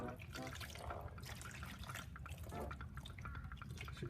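Water poured steadily over sand in a classroom erosion experiment, a continuous close trickling and splashing that runs throughout.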